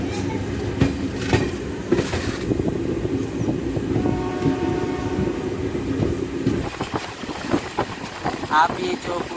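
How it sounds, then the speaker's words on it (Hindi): A DEMU passenger train pulls into Kaukuntla station, with a steady rumble of railcars, wind buffeting the microphone, and rattling clanks growing busier near the end. "Train अरीव्ड eight काउकुंटला।"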